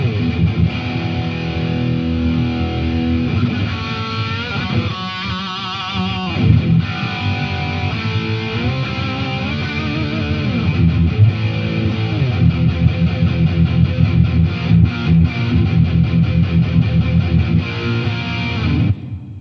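An electric guitar roars through the metal channel of an amplifier head, heavily distorted chugging riffs and sustained chords played continuously and loud for the whole stretch, with no voices.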